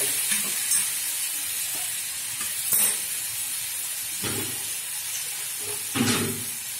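Water poured into vegetables frying in a pan with spinach and lentil dumplings, giving a steady sizzle and steam hiss with brief stirring scrapes and bursts of sputtering.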